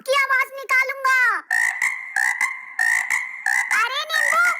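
A voice imitates a frog, giving a series of loud, close, rhythmic croaking bursts, some drawn out and wavering, others short and repeated.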